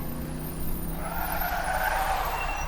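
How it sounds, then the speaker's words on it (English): A car brakes hard as a sound effect, with a rising tire squeal and skid over a low engine rumble, fairly faint and lasting a couple of seconds. "The driver hits the brakes hard,"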